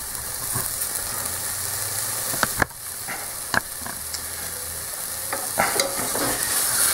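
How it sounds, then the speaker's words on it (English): Risotto rice toasting in butter in a pan while being stirred, a constant crackling sizzle with occasional sharp scrapes and knocks from the utensil, close and free of talk. "Basically just continue stirring. We don't want it to stick."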